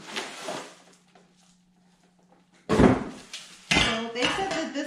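Ceramic cookware pieces from a 12-piece set, including the oven fryer part, clatter and clunk as they are handled during unboxing: a few sharp knocks and scrapes separated by a quiet stretch, close by.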